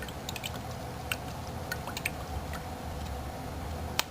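A liquid solution is stirred in a container, giving faint scattered drips, taps and small splashes over a steady low background hum, with no voices.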